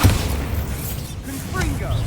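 Bombarda blast spell from Hogwarts Legacy detonating in combat, a loud booming burst at the start followed by rumbling debris and lighter magical whooshes.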